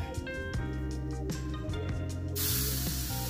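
Turkey burgers on a grill at medium-high heat give off a steady hiss that grows into a louder, brighter sizzle partway through.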